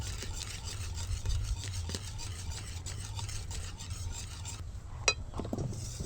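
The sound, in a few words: mixing leftover rice papad batter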